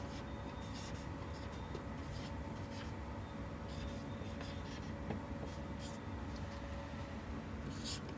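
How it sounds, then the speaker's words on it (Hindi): A pen writing on paper during a maths lesson: faint, steady scratching strokes, close to the microphone, under a constant background hum. "लास्ट में एक लाइन जरूर लिखेंगे"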